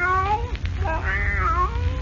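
A fawn-colored cat meows in a 1946 Superman radio drama, giving a couple of clear, close meows with rising and falling pitch that run into one another, set over a low steady hum.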